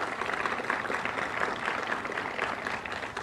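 Audience applause fills the room at a school community event in D.C., a steady, dense wash of clapping from many hands that holds at an even level throughout.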